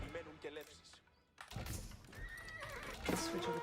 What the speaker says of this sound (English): Let's switch over to horses.